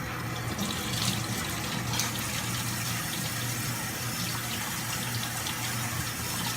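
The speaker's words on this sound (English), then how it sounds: "I need to wash his plate." Tap water runs in a steady, close, even gush as a plate is washed beneath it, with no talking.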